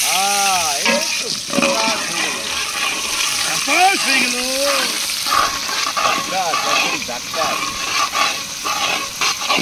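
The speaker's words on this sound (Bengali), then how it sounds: "এই যে এখন দিয়ে দিচ্ছি দেশি পেঁয়াজ" Desi onions frying in a pan for Naga chicken curry, giving a loud, steady hiss and sizzle beneath someone talking throughout.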